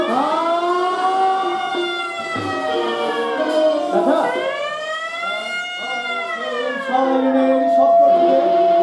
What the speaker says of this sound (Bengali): আর তখন সাইরেন বাজছিল।